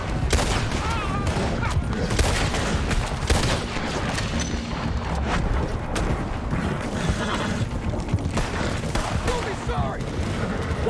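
Sustained gunfire from a Red Dead Redemption 2 shootout, dense overlapping shots and bursts rattling continuously throughout at steady loudness, with mechanical clatter and game sounds mixed in.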